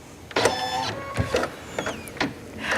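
An embroidery machine stitches the main part of a badge design through fabric basted to stabilizer, giving a mechanical whirring hum broken by a few short bursts, heard close with no talking.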